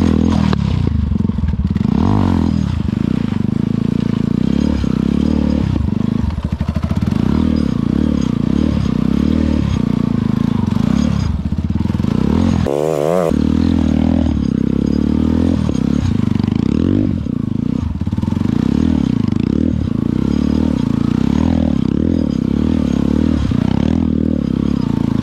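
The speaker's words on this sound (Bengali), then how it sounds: "বেসিক হুইলি আমরা চলেন এখন ফয়সালের বেসিক হুইলি দেখবো।" A stunt motorcycle performing a basic wheelie, its engine loud and close for the whole stretch, revving and surging with scraping and clattering bits mixed in and no talk over it.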